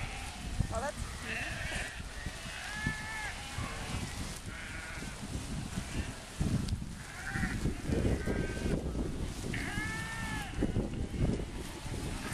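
A flock of sheep in a German pasture bleats repeatedly, wavering calls coming close by at intervals while people talk softly underneath amid shuffling and outdoor rustle.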